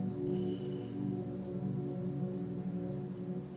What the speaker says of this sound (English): Just like cicada sound.